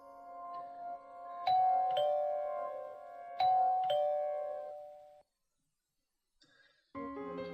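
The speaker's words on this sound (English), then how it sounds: "Ooh, the doorbell." Electronic doorbell chimes ring twice in a video game scene, each a bright two-note ding-dong with a lingering tone, followed by a short pause and a further game chime at the end.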